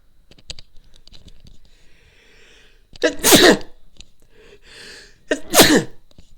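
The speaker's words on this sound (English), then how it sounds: "Oh god, I feel a sneeze." A person sneezes twice, each loud, explosive burst close to the microphone, preceded by faint sharp intakes of breath, with a few seconds of quiet shuffling between the two sneezes.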